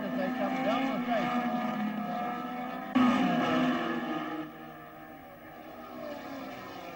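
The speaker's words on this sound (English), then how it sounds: "Jim Clark in the lead as they come down the straight." Engines of 1968 Tasman Series racing cars drone in a sustained tone as the cars run down the straight at Round 5, one passing close and loud before the sound fades back.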